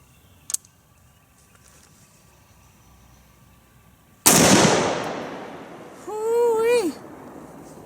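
A single loud SIG716 rifle shot with a Hiperfire 24C trigger, firing Tula ammunition outdoors at a range, with a long rolling echo afterward and a man's excited exclamation near the end.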